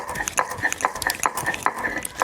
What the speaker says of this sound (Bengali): লবণ দিয়ে বাটছি এই কারণে, বাটতে সুবিধা হওয়ার জন্য।